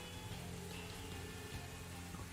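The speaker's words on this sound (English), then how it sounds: "the rain will begin to fall much harder" Steady rain falls outside as a dense, even wash of drops with a low rumble beneath, continuous and fairly quiet throughout, no voices.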